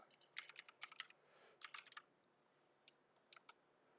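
Fingers type on a computer keyboard in quick bursts of soft clicks with short pauses between them, close and quiet in an otherwise silent room.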